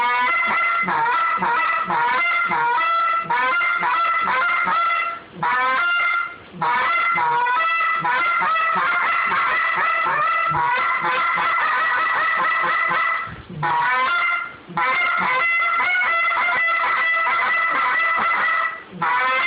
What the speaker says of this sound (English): one thing I want to add about our goose calls is you see him blowing it with 2 hands